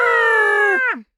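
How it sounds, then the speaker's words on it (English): A little duck gives a single drawn-out, nasal call that falls away at the end. It is loud and close, with no other sound around it. "Just a little duck."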